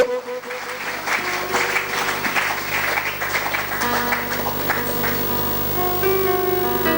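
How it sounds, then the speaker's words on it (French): A church congregation at a Pentecost service applauding, a steady dense wash of clapping that carries on for several seconds with voices and music mixed underneath. "Est-ce que nous pouvons acclamer la parole"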